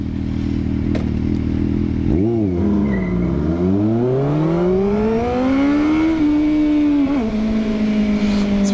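A Ferrari engine revs loud and close: it dips sharply, then climbs steadily in pitch for several seconds before settling and revving again, with a continuous roar throughout.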